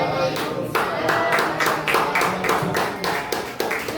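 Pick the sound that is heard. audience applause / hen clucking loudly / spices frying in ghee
audience applause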